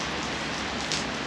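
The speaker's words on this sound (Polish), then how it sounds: "piękna wiosna w pełni. Ale leje deszcz." Heavy spring rain pouring steadily, a dense, continuous hiss of drops on surfaces, close and loud, with no voices.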